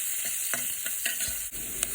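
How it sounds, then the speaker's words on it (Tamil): Mustard seeds, urad dal, curry leaves and asafoetida sizzle steadily in hot oil in a kadai, with a spoon scraping and stirring in quick strokes throughout the short, close-up sound. "கடாயில் ஆயில் போட்டு அதில் கடுகு, உளுந்து, கருவேப்பிலை, பெருங்காயம் போட்டு தாளிச்சிட்டு வெங்காயத்தையும் அது கூட சேர்த்துடணும்."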